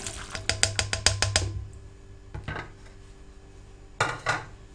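Lentils and meat tumble into a metal pot of water with a quick rattling clatter of pieces, followed by a few separate clanks, close by.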